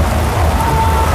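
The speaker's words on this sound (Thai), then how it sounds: "ฝนตกหนักมากครับพี่น้อง" Heavy rain falls at an outdoor fairground booth area during the 2022 MotoGP event in Buriram, a steady dense broadband wash that stays loud and continuous throughout with no pauses.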